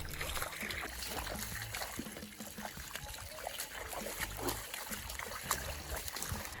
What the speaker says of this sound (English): Drain the water with vinegar and rinse the blanket one last time, but this time in clean water.